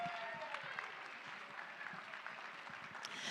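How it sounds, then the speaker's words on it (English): A live charity auction audience gives a winning bidder a round of applause, heard as steady, fairly faint clapping from a crowd that continues throughout. "Give them a huge round of applause."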